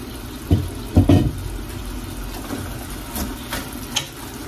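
Bicol Express with chili and coconut milk simmering in a pan, a soft bubbling sizzle with a few knocks of a spoon stirring against the pan, close up, no talking.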